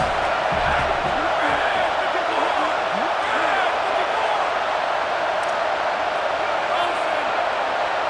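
A stadium crowd in an EA Sports College Football game roars as a steady, dense wash of noise with scattered shouts and thumps, and a commentator talks over it.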